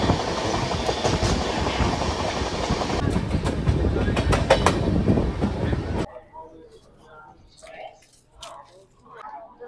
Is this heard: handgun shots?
no